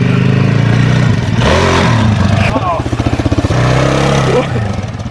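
A year-2000 dirt bike engine revs loud and close, rising and falling with a choppy, rapid firing pulse, while people talk nearby.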